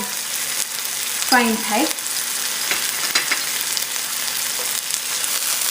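Dried chilies, garlic, ginger and green chutney frying with onion give a steady, close sizzle with occasional stirring scrapes, and a voice briefly speaks over it.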